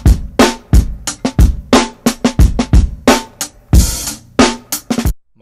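A punchy grimy hip hop drum break plays alone, crisp snare hits and kicks in a swung, repeating pattern, loud and close.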